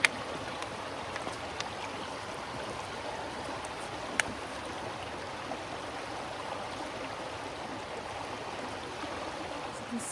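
A water bottle is filled in a flowing stream while water rushes and gurgles steadily nearby, with a few small knocks and splashes standing out.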